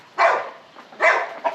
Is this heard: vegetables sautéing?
no